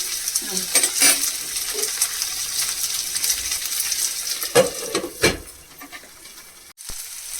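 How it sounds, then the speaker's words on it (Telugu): Potatoes frying in a pan for a Shivaratri sago dish give a steady broadband sizzle throughout, with a few louder clatters and stirring knocks near the middle and a sharp click near the end. "ఇది ఆలుగడ్డ మంచి ఫ్రై కావాలి కదా"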